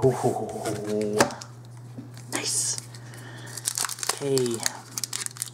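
A Magic: The Gathering Dark Ascension booster pack wrapper crinkles and tears open in close, bursty rustles, with a person speaking briefly over it.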